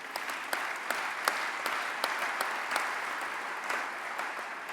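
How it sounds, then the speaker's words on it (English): Sustained applause from a large conference audience in a hall at a National Guard association convention, steady broadband clapping with scattered sharper claps, no talk over it. "Give yourselves a round of applause for your perseverance and execution."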